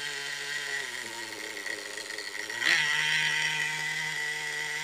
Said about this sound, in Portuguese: Que vibração do próprio motor, ó.